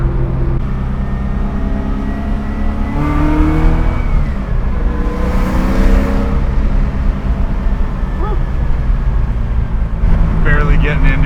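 A 600 whp LSX-powered 1971 Camaro restomod with a Tremec manual transmission is driven on the road. The loud engine note climbs and falls with throttle, and a brief higher whine cuts in near the end.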